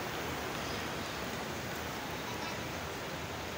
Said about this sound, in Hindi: ये देखें बारिश, आहा माशाल्लाह। ये देखें कतरे बारिश के, ये देखें।